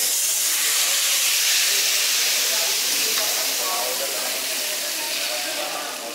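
Hot desi ghee tadka poured over mutton harissa at a buffet, giving a loud, steady steam-like sizzle and hiss that fades slightly toward the end, with faint background voices.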